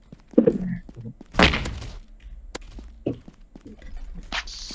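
Hammer strikes landing in a Roblox game, a few sharp thunks and thuds spaced irregularly, fairly close and loud, with brief voice sounds in between.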